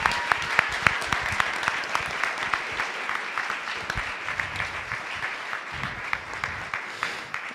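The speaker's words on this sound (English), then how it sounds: "Give her a big round of applause." At a school board of education meeting, the audience gives a retiree a round of applause: loud, close clapping with distinct sharp claps that gradually tapers off.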